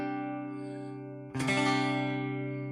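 An electric guitar plays through a Fender Deluxe Reverb amp, fed by a small pedal board. A sustained, effect-laden chord rings up close, then a louder strummed chord blooms with shimmering reverb tails, with no talking.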